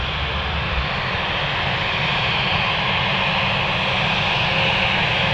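Finnair airliner landing on runway 25R at a freezing Frankfurt airport, a loud, steady, broadband jet roar that stays close and constant with no voices.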